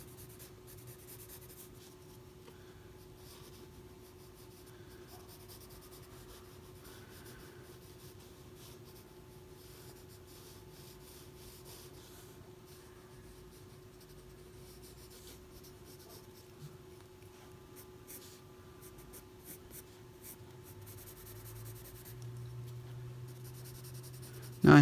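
Pencil scratches softly across paper while a head is drawn, a faint continuous rubbing and scribbling with short irregular strokes under a steady low hum, no voices.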